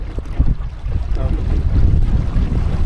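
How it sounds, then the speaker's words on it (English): Wind buffets the microphone aboard a sailing dinghy on open water, a loud low rumbling gust that builds and holds with faint sloshing beneath. "So we've got wind coming this way and wind coming this way now."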